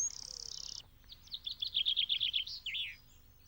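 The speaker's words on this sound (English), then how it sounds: "And birds start to sing to let everyone know that spring has arrived." Birds singing in spring, a bright run of chirps and twittering notes at moderate distance, coming in short repeated bursts after a brief steady tone, with no talk over them.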